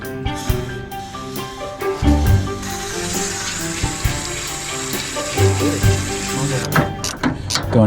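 Water rushing and splashing through a radiator hose while flushing the cooling system of a 1973 Toyota Land Cruiser FJ55, a steady hiss with gurgling bursts, close by, with occasional knocks and talk underneath.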